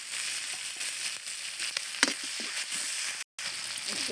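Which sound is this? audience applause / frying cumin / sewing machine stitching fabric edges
frying cumin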